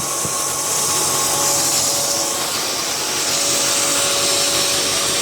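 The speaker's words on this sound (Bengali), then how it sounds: "গম আমাদের চেম্বারে যাচ্ছে, সেটা ভাঙিয়ে কিন্তু এখান থেকে একদম গরম গরম আটা বেরিয়ে পড়ছে।" A 10 HP pulverizer atta chakki grinding wheat into flour, a loud, continuous whirring roar with a steady hum and no pauses, heard up close.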